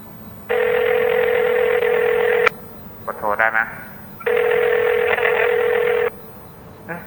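Payphone in a phone booth in the video game Exit 19 sounding two long steady electronic rings, each lasting about two seconds, separated by a brief voice-like burst, loud and close over a low background hum.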